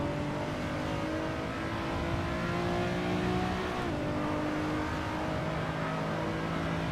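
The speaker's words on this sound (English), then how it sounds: "It's not got the V6 engine sound because the mod has really bad sound, so we swapped it." Racing car engine in Assetto Corsa, using a swapped-in engine sound, drones loudly and steadily throughout with small shifts in pitch as the revs rise and fall, with no voices.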